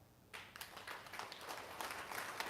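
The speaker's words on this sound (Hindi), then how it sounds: "तालियां" Applause from participants in a yoga class begins abruptly after a quiet moment, a soft, scattered clapping from the group that stays fairly faint and continues evenly to the end.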